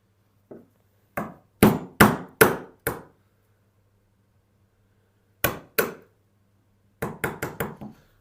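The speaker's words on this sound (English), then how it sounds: "And I do love these Narex Richter chisels that Jacob got me for Christmas, my son" A Narex Richter chisel is struck with a mallet while chopping a pine box joint, giving sharp, close knocks in uneven clusters of two to five blows separated by silent gaps.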